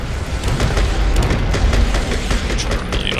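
Rocket launcher blasts in Tokyo 42, loud booming explosions with repeated punchy hits and rumbling low end running continuously, close and heavy.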